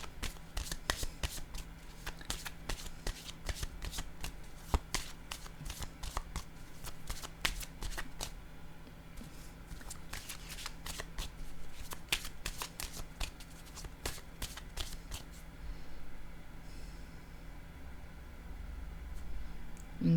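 Tarot cards being shuffled and drawn: repeated crisp riffling bursts and soft flicks of card stock, close and steady, with light rustling throughout and no talking.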